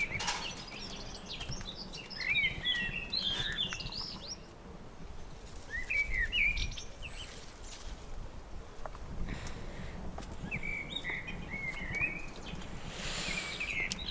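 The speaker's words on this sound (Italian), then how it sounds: "Ma sentite gli uccellini." Small birds chirp and tweet in bursts of bright, high calls over a garden, with steady outdoor background noise underneath and no talking.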